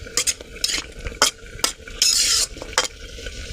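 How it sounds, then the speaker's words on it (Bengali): A spoon stirs mango curry in a pot, with scraping strokes at an irregular rhythm over a soft sizzle and a longer hissing burst midway, close and moderately loud. "দিয়ে একটু নাড়াচাড়া দিয়ে নেব"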